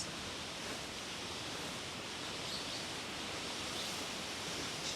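A waterfall pouring as a steady, even roar of rushing water, broad and unbroken throughout with no voices.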